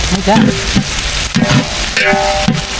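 Hot oil frying spices and herbs in a large pot for a temple cooking session, a steady loud sizzle with bursts of stirring and scraping, voices murmuring in the background.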